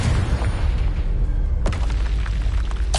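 Confringo explosion spell in Hogwarts Legacy, a rumbling boom followed by a sharp burst about midway, loud and close with a crackling tail.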